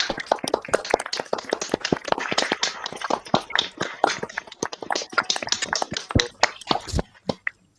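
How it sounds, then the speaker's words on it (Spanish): Participants at a creative writing workshop applaud together. Steady, close clapping runs for about seven seconds before thinning out into a few isolated claps at the end. "que aplaudamos, que nos merecemos el aplauso"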